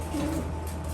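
Young racing pigeons back from a training toss coo softly for about a second, a low murmuring at moderate distance over steady background noise.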